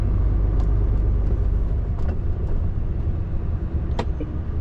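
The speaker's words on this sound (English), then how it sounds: "You got a lot of cars just flying around this corner" Cars sweep around a road corner in steady traffic, a continuous low rumble of engines and tyres with several brief swishes as vehicles go by, heard from inside a delivery truck.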